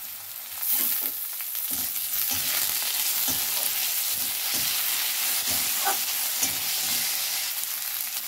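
Garlic and chopped tomato fry in a hot pan for a curd and katla fish curry, a dense, continuous sizzle with soft stirring scrapes close by and no voices.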